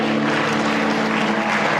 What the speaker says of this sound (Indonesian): Yang merasakan hadirat Tuhan kasih tepuk tangan yang meriah.